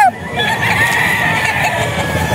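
Gamefowl roosters at a breeder farm in Bocaue, with loud crowing and clucking from nearby birds over a continuous barnyard din, and a voice faintly talking underneath.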